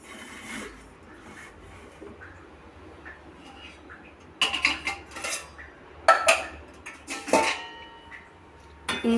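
A metal kadai and other pots are set onto a kitchen rack, making loud close clanks and scrapes that come in bursts after a quieter stretch of soft handling.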